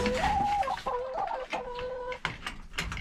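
Several backyard chickens cluck and squawk close by inside a shed, with short rising calls overlapping in an uneven, busy chatter.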